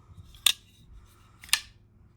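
A PMP Alpha Smilodon folding knife clicks as its lock engages, two crisp, close metallic snaps about a second apart against a quiet background.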